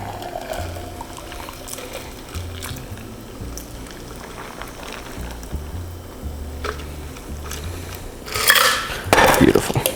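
A margarita is poured from a cocktail shaker into a glass, with low rattling of ice and metal under faint handling noise, then a louder splashing pour and ice clinks toward the end.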